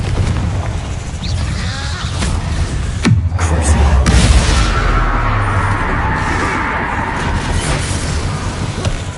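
A Confringo spell detonates in the video game Hogwarts Legacy as one loud, deep explosive boom that rumbles away amid dense game sound, with a voice nearby.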